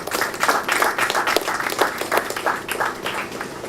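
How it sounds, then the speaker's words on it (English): An audience at the official opening ceremony of World Environment Day breaks into dense, continuous applause, many hands clapping at once, fairly close and full throughout. "deserves a round of applause"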